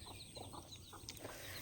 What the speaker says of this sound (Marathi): तर ह्या 3 कोंबड्या आहेत